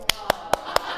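Four sharp, evenly spaced claps from a single person, close and crisp, each a brief isolated smack with short pauses between, over a faint room background.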